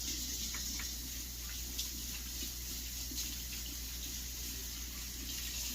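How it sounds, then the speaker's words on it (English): Hands being washed under a running kitchen tap, a steady soft stream of water with light splashing and rubbing, fairly faint and close, with no talking. "Wash my hands real quick."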